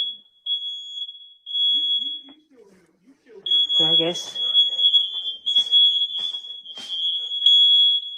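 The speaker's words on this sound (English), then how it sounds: "The alarms went off in the house" Smoke alarms in a house shrill with a steady high beeping tone that runs almost throughout, nearly continuous with short breaks, while a person talks over it and other bumps and clatter sound nearby.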